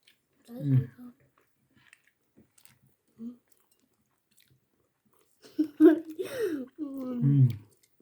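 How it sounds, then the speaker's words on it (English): Someone biting into and chewing a personalised cookie, soft close mouth sounds in short bursts among quiet pauses, followed by appreciative humming and a voice near the end. "I'm just gonna go right ahead and eat it."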